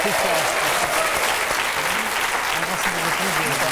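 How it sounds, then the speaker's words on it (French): Television studio audience claps loudly and continuously for several seconds, a thick wall of applause with a voice talking over it throughout. "Allez, on remercie, on applaudit encore"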